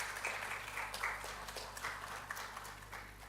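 Audience applause welcoming Dr. Sanjay Kumar, Director of CSIR IHBT Palampur, onto the stage at a soil health conclave: a steady, moderately distant wash of clapping with scattered sharper claps, no voices over it.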